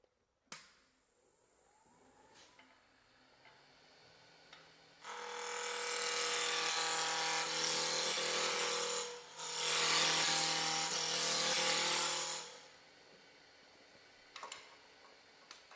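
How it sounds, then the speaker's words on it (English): A roughing gouge cutting a spinning wooden workpiece on a lathe, producing a loud, steady hissing scrape in two long passes separated by a brief break, with a faint motor hum before and after. "And I'm going to use my my roughing gouge for doing that."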